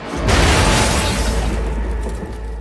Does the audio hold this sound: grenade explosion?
yes